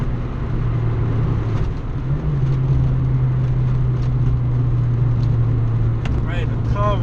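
A Peugeot 205 GTI's engine pulls steadily at about 3000 rpm from inside the car, a low constant drone with a slight shift in pitch partway through, while people talk over it.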